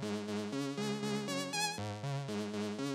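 Make Noise Maths subharmonic synth blended with a Moog Mother-32 oscillator, playing a thick, layered sequenced line of buzzy notes with deep subharmonic tones beneath, steady and loud with no voices.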